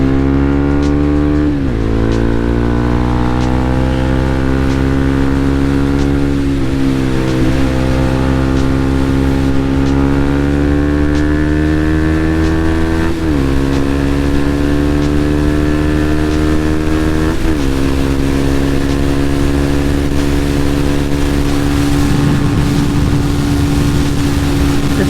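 A motorcycle climbs a bendy interstate on-ramp through a construction zone, its loud engine holding steady, rising harmonic tones that drop at several gear shifts before climbing again, with wind buffeting toward the end and no talk.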